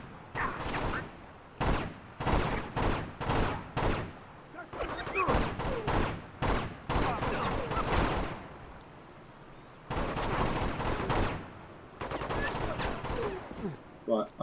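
Gunfire in Uncharted: Among Thieves comes in rapid bursts of shots, clustered volleys separated by short gaps, fairly loud and close, with a voice talking faintly in between.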